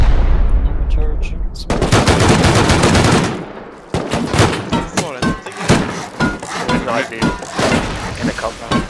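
Rapid gunfire from a raid tower in a video game raid-defense match: dense bursts of shots and impacts crackle almost continuously, pausing briefly near the middle before resuming, with voices talking over the action.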